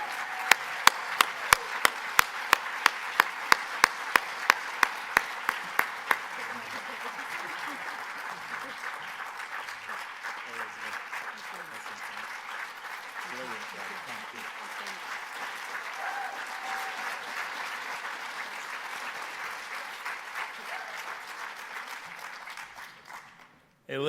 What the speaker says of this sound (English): Please give Elizabeth a huge round of applause.